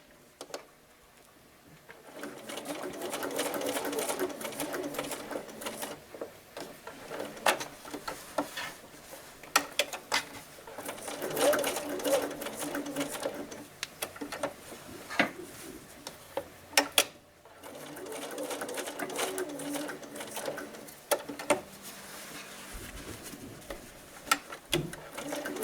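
A sewing machine stitching a small piece of Velcro onto a reversible baby bib runs in steady rapid ticking bursts, stopping and restarting a few times, close and moderately loud with no talking.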